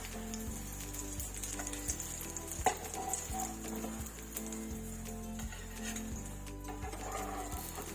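Egg-coated bun kababs frying in a pan give a steady close sizzle with occasional soft clicks and pops, while a low electrical hum runs underneath and no one speaks.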